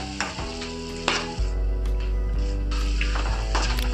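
Peanut powder being stirred into a pan of potato khichdi, a close, steady scraping and mixing with a low sizzle and a few sharper knocks of the spoon against the pan, no talking.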